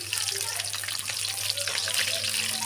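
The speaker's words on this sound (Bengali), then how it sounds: "কারো তো সুন্দরভাবে ভাজা হয়ে গেছে," Chicken pakora fry in hot oil with a steady, close bubbling sizzle and faint spatters over a low hum, holding an even level throughout.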